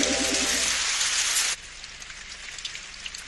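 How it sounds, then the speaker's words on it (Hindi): Cartoon rain sound effect, a dense bright hiss of heavy rainfall with a faint tonal pattern underneath, loud and steady before cutting abruptly to a softer patter of scattered drops for the remainder, with no talking. "अच्छा हुआ बारिश की वजह से मौसम ठंडा हो गया।"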